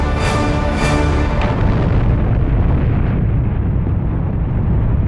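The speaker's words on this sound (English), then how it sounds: "Borodino kept up a continuous fire with all her guns" Heavy naval gunfire from the Russian battleship Borodino in the Battle of Tsushima, loud booming blasts at the start that roll into a long, dense rumble of continuous firing.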